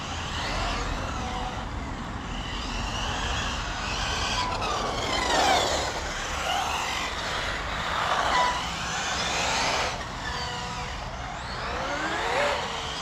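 Electric motor of a Tekno B48 RC buggy on a dirt track, a continuous whine rising and falling as the car speeds up and slows, at moderate volume with no voices.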